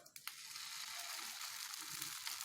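Dosa batter topped with beaten egg for chicken kari dosa sizzles on a hot pan over low flame, giving a steady, bright, close hiss that holds evenly for a few seconds after a couple of soft knocks.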